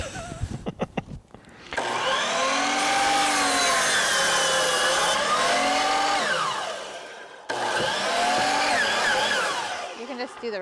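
A power saw bites through thick timber at an off-grid house build, its motor note rising and sagging steadily under load for several seconds, breaking off briefly, then resuming close and loud.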